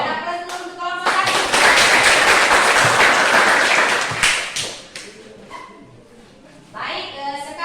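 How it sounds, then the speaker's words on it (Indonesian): Audience applause for a student group after its class presentation, a burst of many hands clapping that swells, holds for a few seconds and fades, with a voice speaking before and after. "Berikan aplaus dulu untuk kelompok 1."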